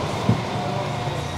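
Chiltern Mark 3 train running, heard from inside the carriage as a steady low rumble with a single faint knock.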